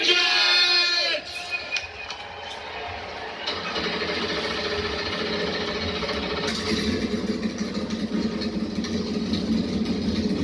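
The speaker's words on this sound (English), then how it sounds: "Gentlemen, let's get those engines fired up. 1, 2, 3. Driver, start your engines!" NASCAR stock car engines fire up at a command start and settle into a steady, rumbling idle. A crowd murmurs in the background and talk runs over the engines.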